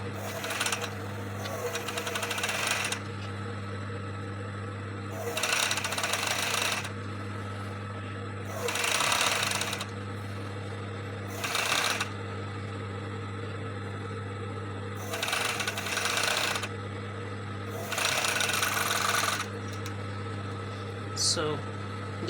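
A sewing machine stitches the side seam of a swimsuit from the sleeve hem. It runs in several loud, steady bursts of a few seconds each, separated by pauses, over a constant low hum.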